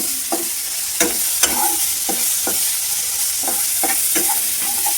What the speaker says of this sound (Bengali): এবার ভালো করে নাড়িয়ে ভেজে নিচ্ছি।